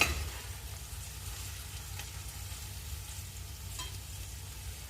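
Sliced onion fries in a pan with ginger, green chili and garlic, a quiet, even crackling sizzle throughout, with a couple of faint spoon scrapes against the pan and no talk.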